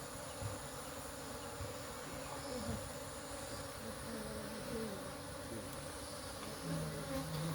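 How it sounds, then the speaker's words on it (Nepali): A swarm of honeybees hums continuously as it gathers into a bag, a steady buzzing drone with faint background noise and no voices. "यो अनि सबै मौरी भित्र आउँछ।"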